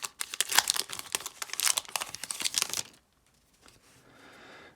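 Foil wrapper of a 2025 Topps Heritage baseball card pack torn open close up, a burst of loud crinkling and ripping for about three seconds, then near silence with faint rustling.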